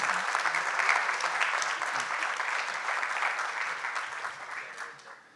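A seated audience at a corporate governance talk gives steady, moderately loud applause that tapers off at the end.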